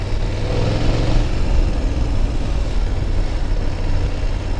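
A BMW F800 GS 800cc adventure motorcycle engine runs steadily and fairly loud, a continuous rumbling drone with no talk over it.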